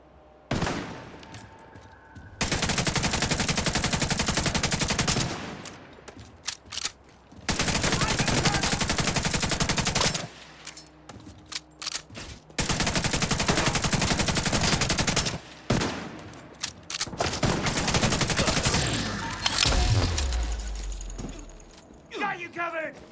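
Sustained automatic gunfire from The Division 2 erupts in long, dense bursts separated by brief pauses, loud and close, with scattered shots and game effects between volleys.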